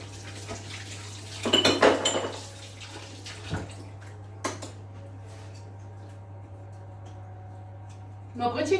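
A cupcake-mixing utensil gets rinsed under a running kitchen tap, with short bursts of splashing water and metallic clinks, separated by quieter stretches.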